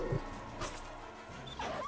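A dog in the video game Shadow Fear gives a quick yip and a couple of short whimpering barks, faint and brief.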